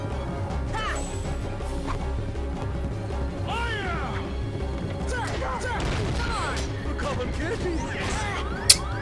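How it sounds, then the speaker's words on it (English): Explosions and crashing impacts in the Kingdom Hearts video game's Never Land level, several sharp bursts and smashes over game sounds, with people talking throughout. "You see how active that explosion was?"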